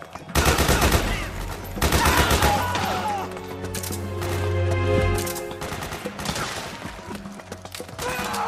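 Machine gun suppressing fire in the Metal Gear Solid 4 video game: loud bursts of rapid automatic gunfire come in several volleys, with soldiers shouting in between and debris crashing under the shots.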